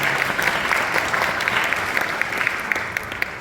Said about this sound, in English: Give them another clap.